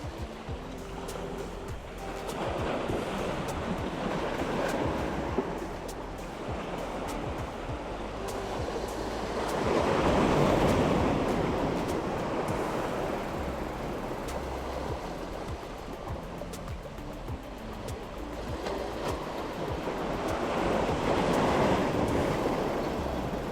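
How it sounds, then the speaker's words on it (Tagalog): Sea waves grow stronger at a fishing spot on the coast of Fujairah, a steady rushing surf that swells into louder crashing surges about halfway through and again near the end, with no voices. "Lumalakas na yung alon."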